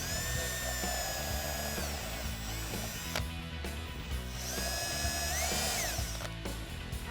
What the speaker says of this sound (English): take an 1/8 inch drill bit and drill 3 pilot holes